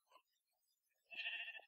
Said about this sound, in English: Oh, it's a sheep. Never mind. Phew. It's just a sheep.